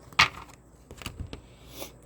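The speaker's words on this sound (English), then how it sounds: "when I'm shuffling my cards" A deck of tarot cards being shuffled by hand, a few quick papery riffles and taps, close and fairly quiet, with one sharper flick near the start.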